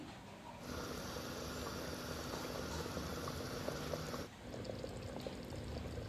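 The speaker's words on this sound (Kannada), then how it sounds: "ಇವಾಗ ಇದು ಚೆನ್ನಾಗಿ ಕುದ್ದಿದೆ" Taro root sambar bubbling in a pot on the stove, a soft continuous rolling boil with gentle popping, faint and steady, briefly dipping before resuming.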